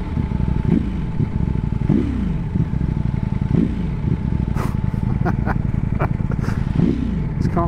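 A 2024 Ducati Panigale V4S motorcycle being ridden on the road, its V4 engine droning loud and steady with repeated rises and falls in revs as it shifts, plus some clatter and wind.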